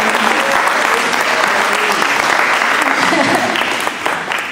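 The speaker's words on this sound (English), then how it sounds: "So let's give him a little round of applause" Members at a community association meeting give a round of applause, a loud, dense stretch of clapping with a voice briefly audible beneath it.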